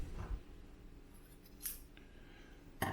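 Scissors snip through kilt fabric in a few short, quiet cuts, close by, with no talking.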